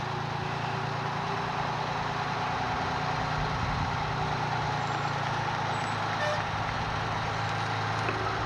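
A 1987 E1 2,000-gallon engine tanker of a volunteer fire department drives past in a fire department anniversary parade in South Windsor, Connecticut, with a steady, loud diesel rumble and droning engine hum.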